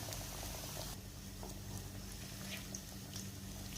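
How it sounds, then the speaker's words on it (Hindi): Coated chicken shami kababs fry in a pan over a medium-high flame, giving a constant bubbling sizzle at moderate, even volume with no voices. "मीडियम हाई फ्लेम के ऊपर फ्राई करेंगे, जिसके ऊपर हमने कोटिंग की थी।"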